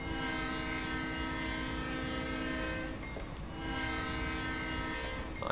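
A Santa Fe locomotive horn in a 1990s Cajon Pass train simulator blares as a long sustained multi-tone chord, dipping briefly near the end before resuming, over steady engine rumble.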